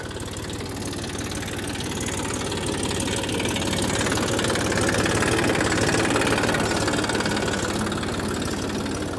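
Tractor engine idling close by in a field, a steady low knocking rumble with a fast even pulse, slightly swelling in loudness midway, with no talk over it.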